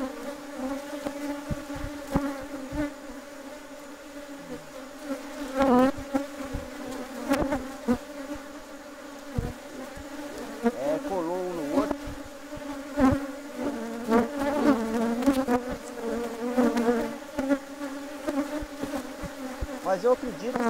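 A honeybee swarm hums steadily around an opened beehive during a colony split, a dense close buzz with individual bees flying past the listener.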